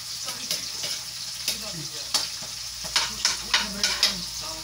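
Garlic frying in a pan over medium heat, a continuous sizzle with clattering stirring strokes that grow more rhythmic toward the end, close by with no talk.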